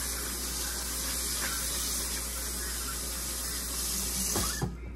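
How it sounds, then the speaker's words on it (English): Hot water runs steadily from a tap over greens being rinsed, a continuous soft hiss and splash at moderate distance, with a brief clatter and shift in the flow near the end. "So you're just going to rinse them off again with some hot water."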